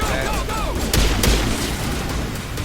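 Combat gunfire in Mass Effect Legendary Edition, with a couple of loud sharp shots and booming impacts punching through dense battle noise and in-game voices.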